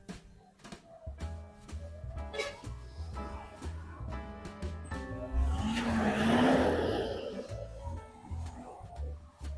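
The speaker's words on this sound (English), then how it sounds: "East Coast traffic on a Saturday afternoon in Georgetown." Saturday afternoon street traffic on the East Coast road in Georgetown, Guyana: passing cars with engine revs, a swelling whoosh of a vehicle going by mid-way, and a rising squeal, fairly close.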